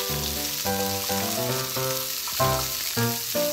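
Tomatoes sizzle in a pan while being stirred back and forth, a steady frying hiss under music with no talk heard.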